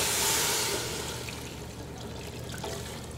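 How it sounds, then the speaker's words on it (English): Two quarts of water poured into a pot holding shrimp shells and sweated vegetables, a bright splashing gush at first that settles into a softer trickle, heard alone. "We're going to add the 2 quarts of water."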